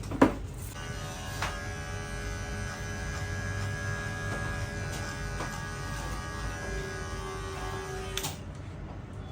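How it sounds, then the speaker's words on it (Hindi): A steady electric trimmer buzz drones continuously at close range, with a few faint clicks and knocks, stopping abruptly near the end. "ट्रिमर के काज खत्म, कैंची के काज चालू।"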